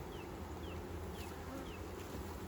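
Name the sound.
honey bees buzzing at a hive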